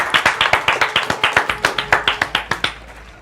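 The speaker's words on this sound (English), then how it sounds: "So a round of applause again." Sparse, evenly spaced claps ring out for contestants at a university quiz show between Strathmore University and Daystar University. The beats are crisp and regular, more like a few people clapping in rhythm than full applause, and they fade toward the end.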